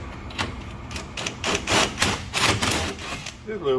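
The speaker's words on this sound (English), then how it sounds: "So we'll kind of ream this out a little bit." A toilet bolt hole is reamed out during apartment maintenance: close, rapid bursts of scraping and grinding in uneven pulses, with a short spoken remark.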